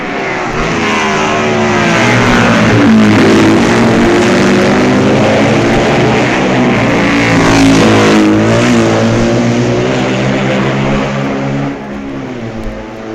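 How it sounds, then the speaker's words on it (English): BMW racing sidecars at the 1965 Isle of Man TT roar through Parliament Square, a loud sustained engine howl rising and falling as the machines pass close by, fading slightly at the end. "2 more BMWs are coming into the picture as first Heinz Luthringhauser and then Colin Seeley roar through Parliament Square"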